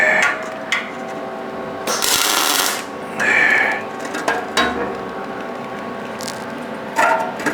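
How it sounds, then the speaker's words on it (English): A welder lays a few short tack welds on a fixture table, each a loud, harsh burst lasting under a second, separated by quieter shop noise and light metal handling. "Get a good weld in here, get a good tack in here"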